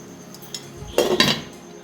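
A lid set down on a pot of potato curry gives a short metallic clatter, two quick clinks close together near the mic, then quiet.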